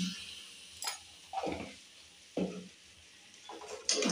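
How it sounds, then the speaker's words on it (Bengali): A paneer curry with yogurt is stirred in a pan, giving several scraping, sizzling strokes spaced about a second apart over a low background hiss. "ভালো করে এটা নাড়িয়ে নেব 2 মিনিট মতন"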